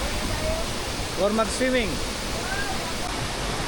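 Steady broadband rush of Tagbibinta Falls at a mountain resort in Maragusan, Davao de Oro, filling the whole clip as a constant roar, with a brief spoken question rising over it midway.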